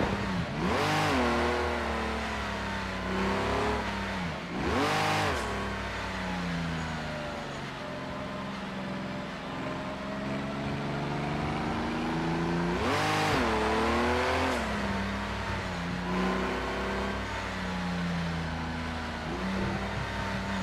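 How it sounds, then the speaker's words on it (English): Historic race car engine in the Project Cars 2 racing game, revving loudly with repeated sharp surges and rises in pitch between steadier running stretches, alone with no talk. "enjoy the sound of that engine"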